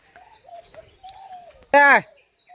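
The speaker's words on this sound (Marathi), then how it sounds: "सुंदर सकाळ आहे बघा एकदम पक्ष्यांची आवाज किलबिलाट" Faint, thin bird whistles sound intermittently in the Konkan morning, then one loud, harsh call rings out close by before quiet returns.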